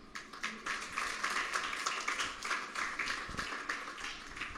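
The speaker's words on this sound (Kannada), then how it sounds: "ದೇವ್ರಿಗೆ ಒಂದು ದೊಡ್ಡ ಚಪ್ಪಾಳೆ ಕೊಡೋಣ" A church congregation at a Sunday service claps steadily for several seconds, a dense, continuous patter of many hands at moderate distance with no voices standing out.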